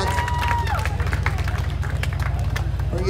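Crowd clapping at a Holley MoParty car show at Beech Bend Raceway, a steady broadband patter over a low engine rumble and other event noise, with talk in the background.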